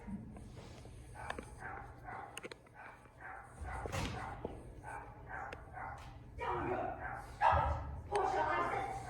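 A small dog named Portia yaps and barks repeatedly on stage during a live play, short sharp barks in a quick uneven series, with actors talking over and between them.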